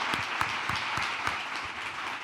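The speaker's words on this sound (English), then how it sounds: "let's get a round of applause for these guys for raising capital for their companies." An audience at a capital-raising discussion applauds in a steady, dense round of clapping that holds at an even level throughout, with no voices over it.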